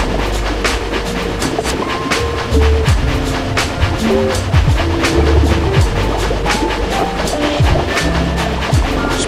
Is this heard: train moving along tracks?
yes